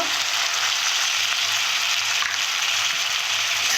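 Peas and tomatoes go into a hot frying pan for a spicy fish curry, producing a loud, steady broadband sizzle that holds without pause, under a faint low rhythmic pulsing.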